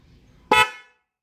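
Two snail-type car horns wired together blare once in a short, loud, close blast that cuts off sharply, with quiet before and after.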